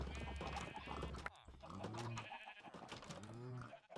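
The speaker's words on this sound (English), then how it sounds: "So I'm gonna go shear up the sheep, I'm gonna kill the cows and the pigs and the chickens" Minecraft farm animals, sheep bleating along with other livestock calls and hoof-like clopping, several overlapping cries at fairly low volume as the animals are sheared and killed.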